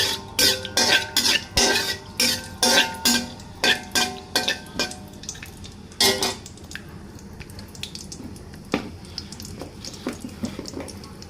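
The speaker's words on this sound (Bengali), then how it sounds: "এখন এর ভেতর এলাচ দারচিনি তেজপাতা দিয়ে দেব এটাকে একটু ভালো করে ভেজে নিতে হবে" Whole cardamom, cinnamon and bay leaf sizzle in a hot pan, with a quick run of sharp clattering stirs and scrapes near the start, then a softer steady crackle of frying with occasional knocks.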